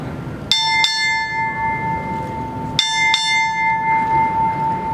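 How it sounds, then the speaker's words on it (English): A ship's bell struck four times at a US Navy change of command ceremony, two close pairs of loud bright clangs with long ringing sustain lingering after each pair. "Bell ringer, strike 4 bells."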